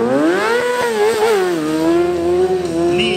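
Large stunt streetfighter motorcycles warming up at a village festival show, an engine revving up with rising and falling pitch, loud and close, followed by a steady idle.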